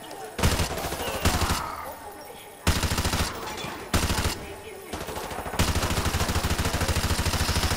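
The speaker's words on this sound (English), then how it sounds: "Ow, you shooting me, Makarov?" Sustained automatic gunfire in Modern Warfare 3, several loud machine-gun bursts broken by short pauses, ending in one long continuous stream of rapid shots, with no talking.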